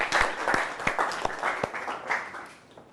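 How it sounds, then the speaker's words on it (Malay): Students in a chemistry classroom give a short round of applause, with distinct individual claps standing out over a light patter that tapers off after a few seconds. "bagi tepukan yang gemuruh untuk keempat-empat kawan kamu tadi"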